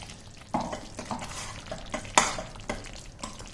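A spoon stirs thick pulihora tamarind paste in a pan as it cooks down, giving soft scraping strokes with a faint sizzle beneath and a sharper clink of utensil against metal midway. Close and fairly quiet, with no talking.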